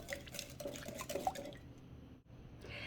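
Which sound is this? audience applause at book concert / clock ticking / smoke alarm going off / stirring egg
stirring egg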